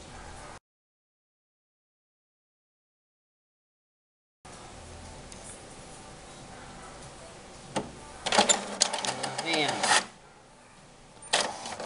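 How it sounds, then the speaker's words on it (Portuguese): A slow home printer pulls in and prints a sheet for nail decal films. After a silent gap it gives a few moderate mechanical whirring and clicking bursts over low room noise. "Espera um pouquinho, porque a impressora é meio lentinha."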